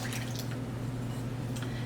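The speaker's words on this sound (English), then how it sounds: "we're going to pour in our milk and vinegar or milk and lemon juice" Milk and vinegar poured into a well of flour in a mixing bowl, a soft wet dribbling and splashing that runs steadily under a low background hum, close and quiet, with no talking.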